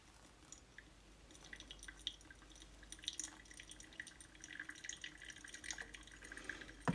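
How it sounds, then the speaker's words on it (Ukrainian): Soft, irregular dripping and trickling of water through pour-over coffee grounds (Salvadoran El Bourbon Arabica), faint and close, growing slightly busier toward the end. "вода поступово проходить крізь нашу намилену каву"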